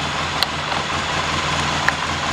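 A Polaris Sportsman 700 ATV engine runs at a steady idle in neutral and two-wheel drive with its wheels spinning, a close continuous low rumble broken by two faint sharp ticks.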